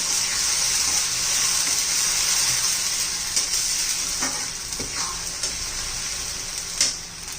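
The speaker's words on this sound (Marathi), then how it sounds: "टोमॅटो प्युरी पण छान अशी परतून घ्यायची आहे" Tomato puree sautéed in hot oil gives a steady, bright sizzle throughout, with a few faint stirring clicks toward the end.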